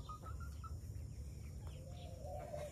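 Chickens or similar birds at an urban homestead give a few short clucks and chirps over a steady low rumble, fairly distant and faint.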